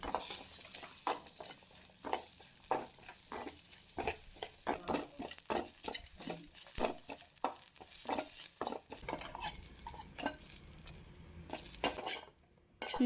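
Chopped onions fry in a pan for a country-style mutton curry, with steady close sizzling under repeated sharp scrapes and clinks of a spoon stirring against the metal, no voices.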